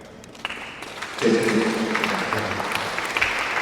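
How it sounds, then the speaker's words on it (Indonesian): Applause from the congregation for Pak Mike at a Catholic confirmation service in church, swelling from scattered claps into a steady, moderately loud round of clapping with faint voices beneath. "tepuk tangan untuk Pak Mike"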